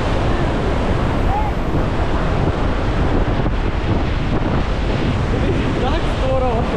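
Water from the Iguazu waterfall crashes down in a dense, continuous roar, loud and close. Gusts of wind buffet the microphone throughout.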